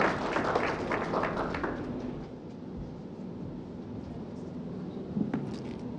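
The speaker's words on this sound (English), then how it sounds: "Let's welcome him with a round of applause." Audience applause welcoming a speaker at a health and wellness trade show fills the first two seconds as a dense clatter of clapping, then fades into a low rumbling room murmur with a faint knock near the end.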